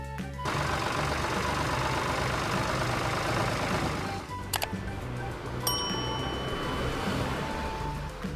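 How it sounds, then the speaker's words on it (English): A tractor engine rumbles steadily and close, a low idling drone with a few faint clicks and a thin whine joining partway through. "tractor,"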